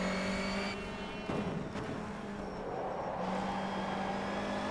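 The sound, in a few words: BTCC Honda Civic race car engine in rFactor 2 video game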